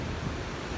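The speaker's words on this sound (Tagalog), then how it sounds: "Ay, hanggang dito lang naman yung alon." Sea waves wash onto the shore in Cagayan under storm-signal conditions, a brief broad rushing surf with wind buffeting the microphone.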